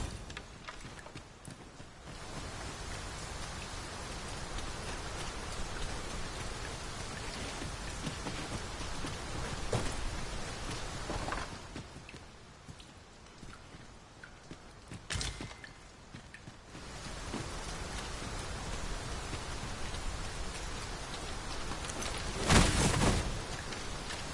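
Steady rain pours down in the video game Dragon's Dogma 2, a dense continuous hiss with a brief lull midway and a sharper gust-like swell near the end, heard alone.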